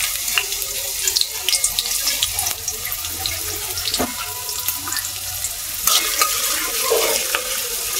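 Chopped onion frying in oil in a wok for a home-style shol fish curry, a loud continuous sizzle with crackling pops and intermittent stirring scrapes close by.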